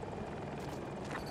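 Rotor thump and turbine whine of a KA-520 Super Hokum attack helicopter in a first-person shooter match on the Hourglass map, a faint, steady drone with no talk over it.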